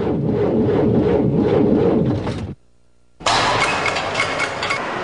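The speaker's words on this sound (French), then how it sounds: "Quiconque a entendu ce son, y a-t-il un Canadien qui ne l'ait pas entendu un jour ou l'autre, connaît l'importance d'un démarrage facile par temps froid." An engine in extreme cold at minus 35 degrees, thick with 15W40 multigrade oil, grinds loudly as it struggles to turn over, breaking off briefly into near silence before the cranking resumes.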